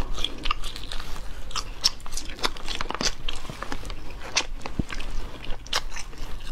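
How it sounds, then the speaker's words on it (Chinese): Biting and chewing spicy latiao strips, close crisp bites and moist chewing in an irregular steady rhythm, without talk. "吃个大辣片"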